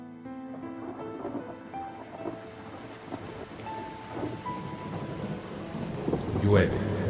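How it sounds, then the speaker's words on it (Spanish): Rain falls steadily with low rumbles of thunder in a stormy scene, a soft continuous wash under faint tonal background sounds, with a louder burst near the end. "Llueve, el mundo se llena de sombra, gotas de lluvia amargas como hielo, se abaten impunes sobre los campos yermos."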